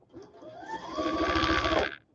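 A sewing machine stitches a quarter-inch quilt seam in a fast, even run of needle strokes that builds up, holds steady and then stops, close and clear.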